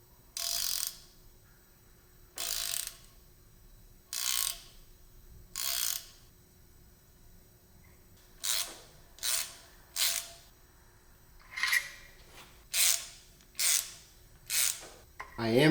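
A thread tap cuts into a cam tray bolt hole on a BMW M50 engine from an E30, giving about a dozen short rasping, ratcheting bursts in an uneven rhythm, close and fairly quiet, with brief pauses between turns.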